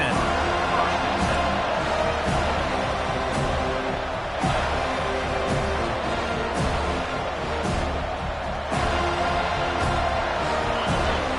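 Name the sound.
stadium crowd roaring at football game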